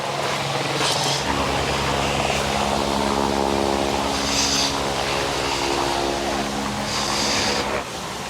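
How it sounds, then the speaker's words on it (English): A helicopter flies overhead near an active volcano in New Zealand, its rotor thumping in a loud, steady pulsing rhythm that persists through the whole stretch. "Oh, there's the helicopter."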